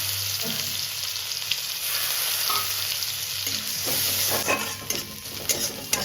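Grated ginger and chopped green chilli fry in hot oil with a loud, continuous sizzle and hiss, broken by soft stirring scrapes and small clinks of a utensil against the pan. Nobody speaks.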